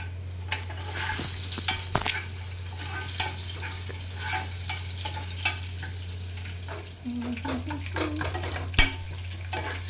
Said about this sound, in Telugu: వెల్లుల్లిపాయలు వేసేసుకున్నాను ఎండి బిచ్చి కూడా వేసేసుకున్నాను